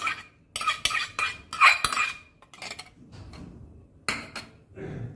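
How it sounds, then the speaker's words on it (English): Butter and oil being mixed into cake batter, with rapid clinking of a utensil against a bowl in irregular bursts separated by short pauses, close and fairly loud, with no talking. "Mix this."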